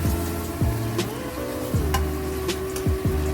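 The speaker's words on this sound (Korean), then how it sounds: "충분히 볶아서 향이 나면 구워놓은 가지를 넣고 잘 섞어줍니다." Grilled eggplant with scallion and ginger is stir-fried in chili oil, giving a soft, steady sizzle under a constant hum, with light scrapes and taps of a spatula against the pan.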